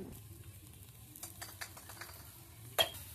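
Chicken tandoori pieces fry in a pan with a soft, low sizzle, broken by occasional stirring scrapes and one sharp clink of a utensil near the end.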